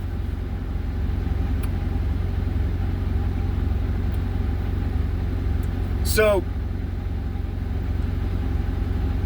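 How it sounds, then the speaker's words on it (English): A truck engine idles with the air conditioning running, a steady low rumble close by for the whole stretch, with a brief rising tone partway through and a single spoken word. "I'm just sitting in my truck with the AC going, I don't get bitched at for idling my truck."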